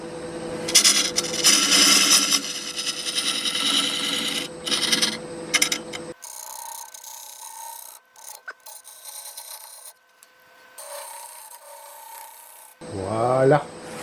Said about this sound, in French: Racloir en épée, on va les nettoyer, faire une face